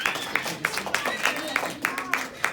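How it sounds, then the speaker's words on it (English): A few people clap in a classroom, sparse and rhythmic with about nine distinct claps in a steady beat over a quiet room. "give Brandon a round of applause one more time."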